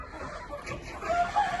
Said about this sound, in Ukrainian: у нас кури вже тут несуться